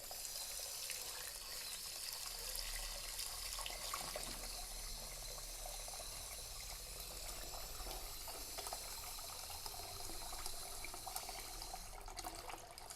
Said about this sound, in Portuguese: Agora eu vou completar a panela com água, pelo menos com o dobro do volume de mandioca.